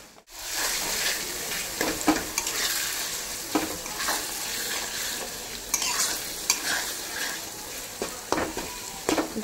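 Meat, with a little sugar added, is stir-fried in a pan, heard as a continuous sizzle broken by repeated scraping and stirring strokes, close up and without speech.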